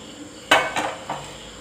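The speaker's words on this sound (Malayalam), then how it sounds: "ഒരു പാൻ അടുപ്പിൽ വെച്ച് ഒരു സ്പൂൺ നെയ്യ് ചേർത്ത് കൊടുത്തിട്ടുണ്ട് ഇനി ഇതൊന്ന് ചുറ്റിച്ചെടുക്കാം" A pan holding a spoonful of ghee is swirled on the stove before making pancakes, giving three short metallic knocks close by, the first loudest, then quiet.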